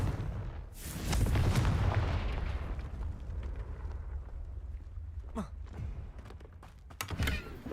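A Confringo fire spell explosion in the video game Hogwarts Legacy, a loud booming blast with rumbling low-end followed by crackling debris and whooshing spell effects, with game sounds continuing after.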